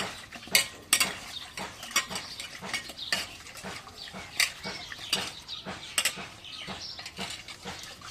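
Chillies are cut with a knife, a close run of irregular sharp chops and taps on a board, some louder than others, with no talking over them.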